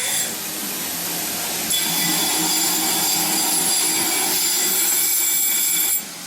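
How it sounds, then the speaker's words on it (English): A handheld power tool chamfering the corner of fresh welds on a broken vibratory tumbler, a loud continuous high whine with a grinding edge that holds steady for several seconds before dropping off, close up. "Right now Eric's just chamfering the little corner where the new welds are, just for a little bit more clearance"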